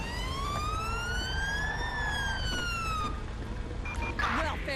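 Video game police sirens in GTA V wail, rising and falling in pitch as they approach over a steady rumble of traffic, followed by a brief burst of clatter near the end.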